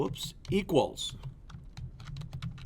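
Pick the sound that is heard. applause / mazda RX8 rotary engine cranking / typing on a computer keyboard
typing on a computer keyboard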